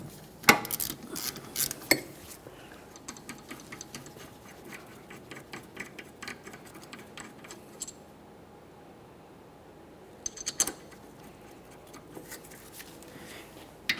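Faint metallic clicks and ratcheting taps of a wrench loosening the 14mm rear brake caliper mounting bolts on a 2011-2020 Toyota Sienna, in scattered bursts with quiet stretches between them.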